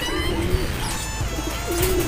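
Pigeons at a breeder's loft give low, close cooing calls, two soft coos a second or so apart, with faint chirps in the background.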